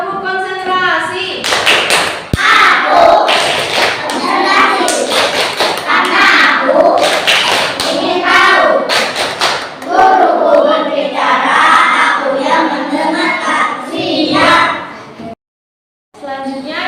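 Schoolchildren in a classroom do a rhythmic concentration clap chant, loud clap bursts in patterned sequences mixed with the group's shouted call-and-response voices, ending with a brief pause and one more clap.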